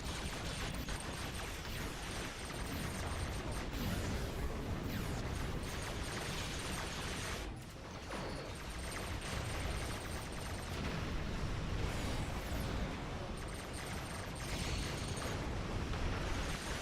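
Missile barrage in Star Trek Online, a dense, sustained roar of explosions and rapid impacts crackling together without pause, fairly quiet overall, with a brief dip in the middle.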